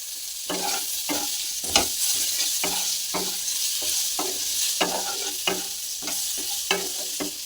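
Potatoes frying in a wok with turmeric, cumin and coriander powder, a spatula scraping and tossing in repeated quick strokes over a continuous hot sizzle, close up with no voices.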